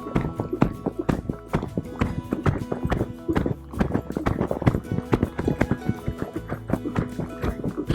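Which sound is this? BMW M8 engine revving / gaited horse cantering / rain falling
gaited horse cantering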